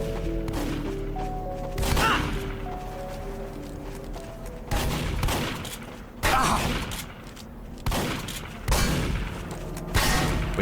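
Shotgun blasts in the horror video game Serverblight, five loud booming shots spaced about two seconds apart, each with a brief crashing tail, over steady background game music.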